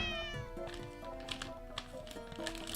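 A cat meows in The Cat Lady video game, with several drawn-out tonal meows close up over soft tapping and game ambience.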